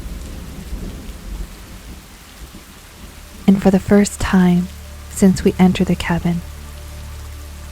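Rain falls steadily outside a cabin during a thunderstorm, with low rumbles early on, and a narrator talks calmly over the constant patter.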